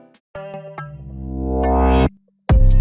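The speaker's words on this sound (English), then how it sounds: "you can remove the highs by dragging this line downwards and make them come back at the end" A beat in FL Studio runs through a Fruity Love low-pass filter with automation: a short stab, then a sustained tone whose highs are cut and gradually sweep back open over about a second and a half, followed by a brief pause and a bright hit.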